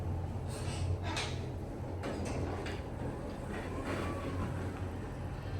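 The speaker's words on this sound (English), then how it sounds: "Based on the door operator sound, this appeared to be a Schindler." A Schindler 5500 machine-room-less traction elevator in a Beijing shopping center has its door operator working, with faint sliding and clicking door movements over a low mechanical hum and distant mall ambience.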